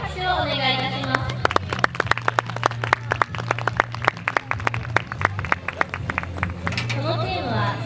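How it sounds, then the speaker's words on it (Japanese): An audience at a horse show's quadrille performance claps in scattered, uneven bursts that swell into brisk applause, with crowd murmur underneath. "皆様どうぞ大きな拍手をお願いいたします。"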